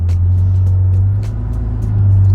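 A Porsche 911 cruises along a fast, flowing country road, its engine and road noise a loud, steady low drone heard from inside the car, with brief ticks and rattles over the top.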